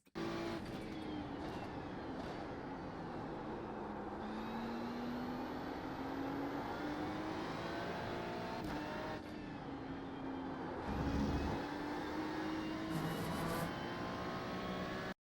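Race car lapping Spa-Francorchamps in iRacing, engine note climbing and dropping through gears with steady high whine, brief downshift blips and tire scrub, continuous and close with no talk.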